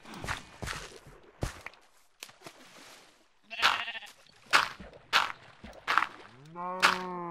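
Sheep bleating in the video game Legend of Eytra, a clear drawn-out bleat at the end following a string of crisp footstep and tool clicks, fairly quiet overall.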